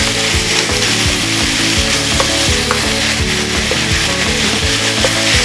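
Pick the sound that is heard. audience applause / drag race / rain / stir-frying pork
stir-frying pork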